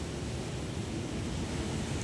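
Sea water flooding around a seaside hut and its fence, a steady close wash of surging water and broadband noise with no voices.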